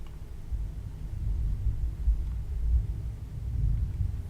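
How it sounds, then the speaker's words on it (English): Low, distant thunder rumbles outside in a soft, continuous swell that rises and falls over a few seconds, faint and deep, with no voices over it. "Can hear the thunder outside."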